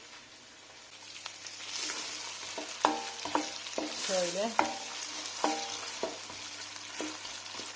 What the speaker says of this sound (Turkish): Havuçlarımı hemen yağıma ilave ediyorum.